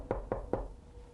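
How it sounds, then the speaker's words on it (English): Three evenly spaced knocks on a house door, close and fairly loud, with no voices. "No one answered the door at Phil Luna's home"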